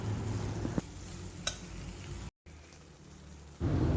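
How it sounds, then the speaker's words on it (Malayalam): Prawns being stirred into a roast gravy in a pan give a soft, steady sizzle and light scraping, with a couple of brief clinks, a short gap, and a louder stir at the end. "പ്രോൺസ് ആഡ് ചെയ്ത് കൊടുത്തിട്ട് നന്നായിട്ട് മിക്സ് ചെയ്യുക"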